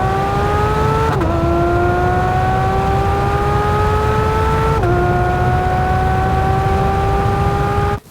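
A 2021 Porsche 911 GT3 of the 992 generation screams loudly as its engine revs up to 9,000 RPM, its pitch climbing steadily through two upshifts before cutting off abruptly.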